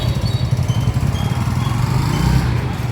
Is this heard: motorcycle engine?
yes